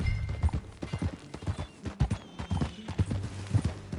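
Horse hooves clip-clop at a steady walking rhythm in the Red Dead Redemption 2 video game, close and clear, with a low rumble of movement underneath and no talking.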